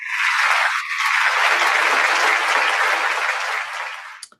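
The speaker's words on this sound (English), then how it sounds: "With big round of applause, let us welcome Dr." Dense audience applause at a science, religion and philosophy conference welcoming a speaker, steady and loud for about four seconds before stopping abruptly, with no talk over it.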